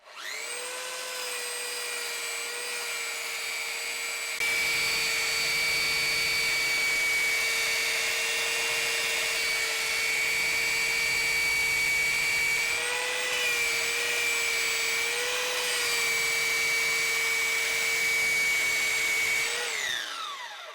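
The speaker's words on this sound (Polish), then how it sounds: "Sprawdzimy jak ta szlifierka taśmowa pyli bez odciągu." A belt sander runs continuously in a workshop without dust extraction, with a loud, high-pitched motor whine and a steady abrasive drone, its pitch dipping slightly midway.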